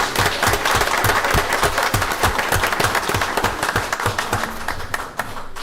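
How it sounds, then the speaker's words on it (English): At a city schools board meeting, a room of people applauds an honoree with loud, close clapping, some hands striking in a rhythmic beat before it thins toward the end. "Give Veronica a round of applause"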